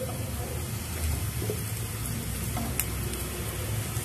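Onions fry in oil in a pan with a dense, steady, close sizzle and soft stirring scrapes throughout. No voices are heard.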